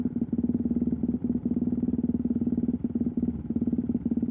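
Steady, throbbing engine drone of a KTM motorcycle riding off-road in Beef Basin near Moab, held at an even pitch with brief dips, moderately loud and continuous with no talk.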